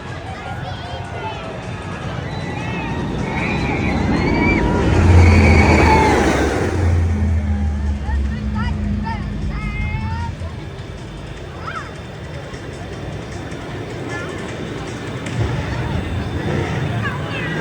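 The Top Thrill 2 launch coaster at Cedar Point roars past, its rushing surge building to a loud peak and then fading into the distance. Park crowd chatter and people talking continue throughout.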